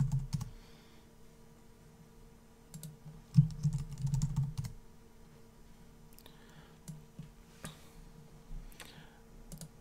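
A password is typed on a computer keyboard running MX Linux, a quiet run of soft, irregular key clicks over a low steady hum, with a denser burst of taps in the middle.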